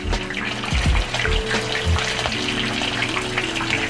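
Hard taco shells fry in hot oil with a steady, close crackling sizzle and occasional louder pops and bubbling bursts, continuous throughout with no voices.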